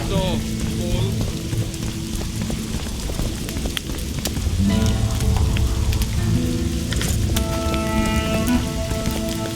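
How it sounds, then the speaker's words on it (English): Rain falling in The Witcher 2: a steady, dense patter of drops fills the scene throughout, layered under tonal music and faint voices. "It only ever rains these days."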